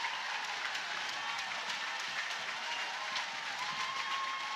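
Softball crowd at Love's Field, Oklahoma, during a regional playoff game, cheering and applauding steadily throughout: a dense, continuous wash of clapping and crowd roar with no clear breaks.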